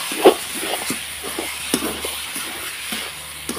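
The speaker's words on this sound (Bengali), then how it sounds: "এটাকে দিয়ে একটু ভালোভাবে নাড়াচাড়া করে নেব।" Shredded cabbage curry with garam masala and sugar sizzles in a hot pan as a spoon stirs it, giving close steady frying hiss broken by several light scraping knocks, with no talking.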